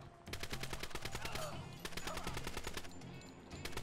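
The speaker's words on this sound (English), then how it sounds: "Manual suppressive fire is the trick." Sustained suppressive gunfire in Door Kickers 2 rattles in rapid, evenly spaced automatic bursts, loud and continuous with a brief pause before resuming.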